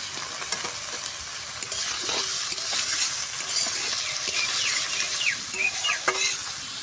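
Onions sizzle in hot oil with a little cumin, a steady close crackle and hiss with scattered sharper pops and occasional stirring scrapes, no voices.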